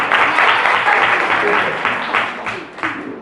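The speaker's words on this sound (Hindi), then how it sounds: "एक बार फिर ताली बजाइए" Audience in a Hindi-speaking school or community gathering applauds a teacher, dense clapping filling the room steadily for a few seconds, swelling and thinning with a few louder claps near the end.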